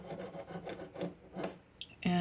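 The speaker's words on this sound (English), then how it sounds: "As I reach the end, I'm starting to saw a little bit more slowly" A saw frame blade cuts through a small piece with steady back-and-forth rasping strokes, about six close strokes slowing toward the end, followed by a brief clatter as the cut finishes.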